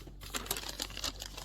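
Plastic packaging for car mud flaps crinkles and rustles as a knife cuts it open, a close, busy run of crackly ticks and scrapes over about a second and a half with no talking.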